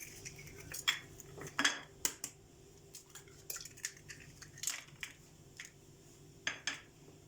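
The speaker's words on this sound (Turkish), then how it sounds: "İçerisine iki tane oda ısısında yumurtamızı kırıyoruz." Two room-temperature eggs are cracked into a mixing bowl, giving a series of sharp taps and small clinks with soft wet drips in between, fairly quiet and close.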